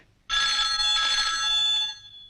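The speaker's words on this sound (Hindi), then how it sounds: "देखना तो किसका फोन है" A telephone rings in a home with a loud, steady electronic bell tone that lasts about a second and a half before stopping, heard alone.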